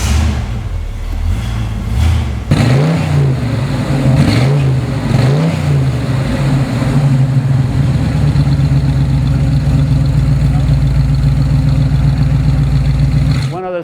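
A 1969 Chevrolet Camaro SS with factory air conditioning cranks over and fires with a sharp catch, revs a few times in rising and falling blips, then settles into a steady, loud, lumpy idle.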